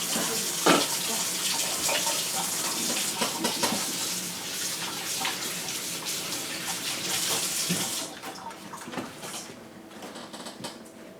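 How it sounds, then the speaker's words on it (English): A tap runs while someone washes their hands, giving a steady close splash with small clatters. It cuts off after about eight seconds, leaving faint dripping and quiet room sound. "I'm going to wash my hand here."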